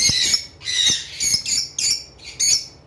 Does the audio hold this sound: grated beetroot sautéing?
no